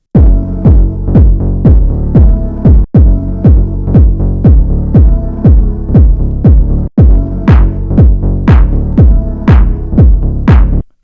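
Lofi house drum loop with pumping kicks on a steady four-on-the-floor beat under a sustained bass layer, loud and continuous, with brief dropouts at bar ends.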